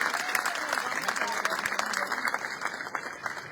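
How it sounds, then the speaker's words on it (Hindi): Applause from a crowd at a political rally in Jalandhar, with steady, dense clapping that stays fairly distant and even, and a voice faintly underneath. "तो जोरदार तालियां एक बार अपने नेता के लिए होनी चाहिए।"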